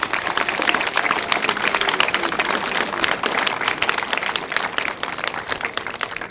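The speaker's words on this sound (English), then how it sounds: "let's give them a quick round of applause" Brisk round of applause from an audience at a construction combine's veterans appreciation day for Army National Guard trainers, sharp individual claps audible in a steady, fairly close burst.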